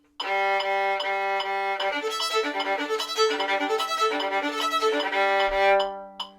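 Plucked string-crossing exercise played at 150 beats per minute, a quick, continuous run of bright ringing notes alternating across strings, close and even for about six seconds with no voice.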